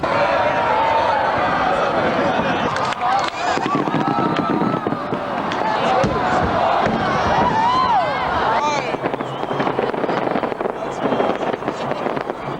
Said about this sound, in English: a warplane streaked overhead, its afterburner igniting the fireworks